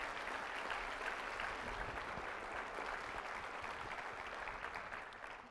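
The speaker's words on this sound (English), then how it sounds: "We applaud you again, Governor." A convocation audience applauds the governor, a dense, steady wash of clapping from a large crowd filling the room and tapering slightly at the end.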